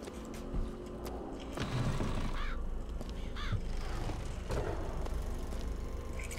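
Crows caw in the video game BioShock Infinite, several harsh calls scattered across a steady ambient game bed with mechanical background noise.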